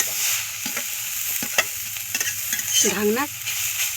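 Bitter gourd tossed with coriander powder and other spices in a kadai, stirred continuously in repeated scraping strokes over a steady close sizzle, with a brief squeaky tone near the end and no talking.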